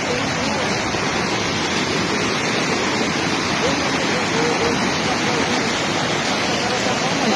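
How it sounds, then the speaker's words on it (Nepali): Floodwater rushes along a mountain road in North Sikkim after heavy rain and a landslide, a loud, unbroken roar of surging water that fills the whole scene with no letup. "पानी बढेर आएको हेर्नु"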